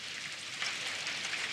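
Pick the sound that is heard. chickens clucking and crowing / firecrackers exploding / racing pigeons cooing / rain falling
rain falling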